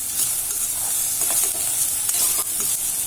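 Okra sautéing in oil in a pan for okra rice, a steady close sizzle with stirring scrapes throughout and no voices.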